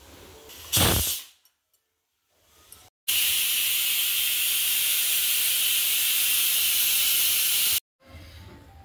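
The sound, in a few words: pressure cooker releasing steam through its whistle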